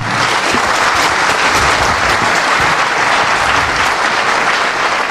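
A large crowd applauds Raila Odinga with dense, loud, sustained clapping that holds steady from start to finish, with no voices standing out above it.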